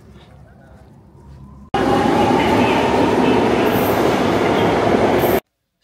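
A Madrid metro train thunders through Estadio Metropolitano underground station, a sudden loud roar that holds steady for several seconds before cutting off, with wheel squeal above it and quiet station ambience before.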